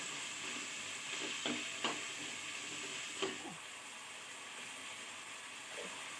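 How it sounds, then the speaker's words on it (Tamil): Sundakkai curry with tomatoes and salt is stirred in a pan over a steady frying sizzle, with a few soft scraping clinks of the spoon against the pan. "நல்லா கிளறி விடுறோம்."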